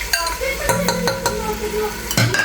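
A small onion fries in about a quarter cup of oil in a pan, a steady sizzle broken by sharp clinks and scrapes of a utensil stirring against the metal.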